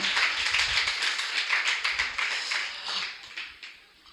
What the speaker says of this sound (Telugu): గట్టిగా చప్పట్లు కొడుతూ ప్రభు నామాన్ని మహిమపరచండి.